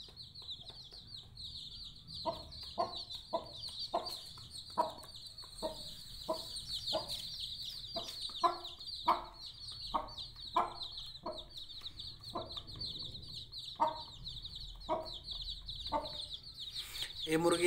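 Aseel hen clucking near her chicks, repeated short clucks in an uneven rhythm, close and moderately loud, over a constant high chirping of the chicks in the background.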